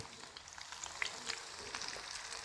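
Okra pieces frying in hot oil in a pan, a soft, steady sizzle with small crackles, heard close and fairly quiet with no voices.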